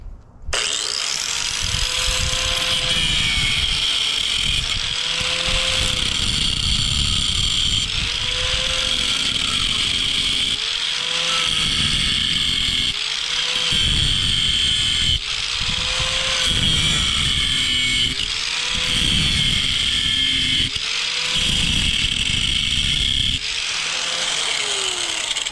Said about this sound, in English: as you can see, it cuts nails